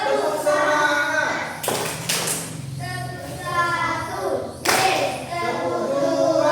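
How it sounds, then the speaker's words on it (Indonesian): A classroom group of children performs a rhythmic Indonesian spirit clap, sharp bursts of clapping in patterned sequences separated by pauses, with voices and chatter between them. "Tepuk semangat."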